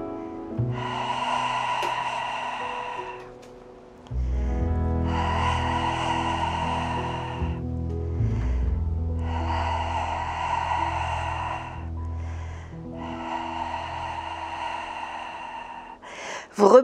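Deep breaths drawn in and let out slowly during a Swiss ball workout, four long breathy pushes in a steady rhythm, close and clear, over a low constant hum.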